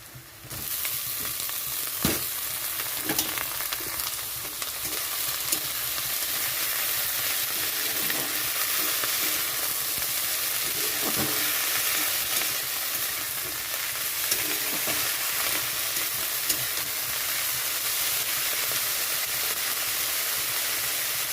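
Dried shrimp paste fries in a pan with a continuous loud, hissing sizzle, broken by occasional stirring clicks and scrapes, close up with no talking.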